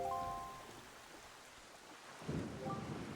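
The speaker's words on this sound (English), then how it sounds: "this place suffers under dark clouds and rain" Rain and rumbling thunder on a cursed island in Wind Waker HD, a low thunder roll that fades and then swells again over steady rainfall, with brief tonal game chimes at the start and end.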